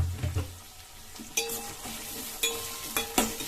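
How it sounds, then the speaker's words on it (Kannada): Onions frying in a pan for masala dosa, a soft steady sizzle punctuated by several sharp metallic clinks of a ladle stirring against the pan. "ಈಗ ಈರುಳ್ಳಿ ಫ್ರೈ ಆಗಲಿ"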